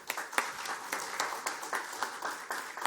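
Audience at a tourism conference applauds a speaker, a moderately quiet, evenly sustained patter of many clapping hands with some sharper claps, no voices over it.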